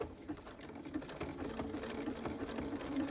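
A sewing machine stitching the top of a buttonhole with a manual buttonhole foot, whirring in a steady run of quick, even needle strokes close by, with no voices.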